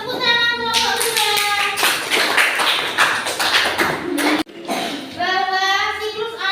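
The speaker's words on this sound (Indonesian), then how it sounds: "Tepuk tangan kelompok kedua" Classroom clapping for the winning second group of students, a burst of quick hand claps with children's voices calling out before and after.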